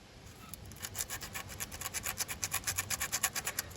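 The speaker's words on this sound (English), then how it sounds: "I might just clean that up with a little bit of sandpaper or something" Sandpaper folded over and rubbed back and forth across an oxidized electrical contact on a 1980 Volvo 345, a steady rhythmic scraping of quick close strokes that grow louder and more regular, with no talking.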